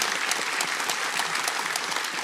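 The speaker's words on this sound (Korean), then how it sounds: "우리 박수로 환영하겠습니다." A church congregation applauds to welcome visiting missionaries during a Sunday family service, a steady dense wash of clapping that holds evenly throughout.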